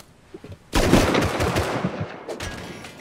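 Loud burst of automatic gunfire in the survival game Rust, a dense rapid volley erupting suddenly and rattling on for over two seconds before tapering into scattered trailing shots, with no talking.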